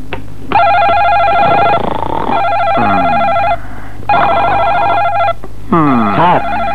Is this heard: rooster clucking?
no